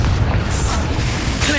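A Confringo fire-blast spell goes off in the video game Hogwarts Legacy, a loud, dense booming burst that stays heavy across the whole short moment.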